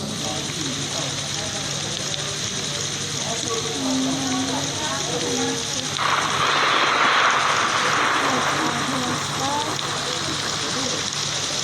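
A steady engine drone of an airplane flying in a video game fills the clip, growing a bit louder midway, with a voice talking over it.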